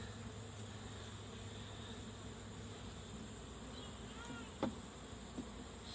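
Honey bees buzz in a steady, close swarm at an open beehive as a beekeeper works down toward the brood nest, the droning hum continuous with a few individual bees zipping past nearby.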